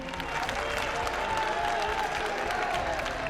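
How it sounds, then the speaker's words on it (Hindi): A crowd at a Sanatan Cricket League match applauds the opening batsmen with steady, sustained clapping throughout. "एक बार जोरदार तालियां हो जाएं जरा दोनों ही प्रारंभिक बल्लेबाजों के लिए।"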